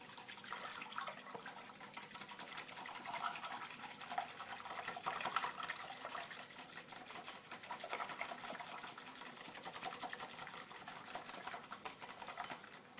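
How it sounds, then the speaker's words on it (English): A whisk or fork beats a rice pudding custard mixture with eggs in a bowl, making a fast, continuous rattling and scraping that stays faint and steady throughout. "Get a whisk or a fork, whatever you feel like, and just mix this together."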